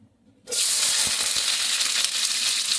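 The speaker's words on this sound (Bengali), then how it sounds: "এবারে তেলের মধ্যে আমি ভেজ ডালের যে উপকরণগুলো আছে সেগুলো সব একেবারে ছেড়ে দিচ্ছি" Vegetables for dal, cauliflower, carrot, beans, green tomato and paneer, hit hot oil with a sudden loud sizzle that bursts in after a short quiet start and keeps hissing steadily, with a couple of faint knocks.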